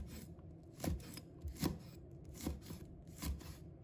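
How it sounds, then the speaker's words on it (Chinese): A knife chops small red chili peppers into rings on a cutting board, five crisp, evenly spaced cuts tapping out a steady rhythm, quiet and close with no talking. "把它切成小圈"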